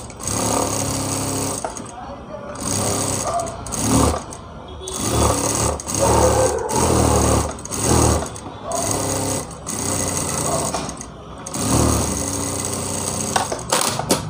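A sewing machine stitches the outline of a lined blouse in repeated bursts of rapid mechanical whirring, stopping and starting every second or two at close range, with a voice speaking between and over the runs.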